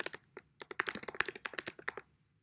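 A quick burst of typing on a computer keyboard sounds up close, with about two seconds of crisp, irregular key clicks before it stops.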